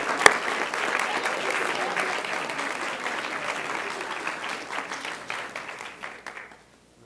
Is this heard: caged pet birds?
no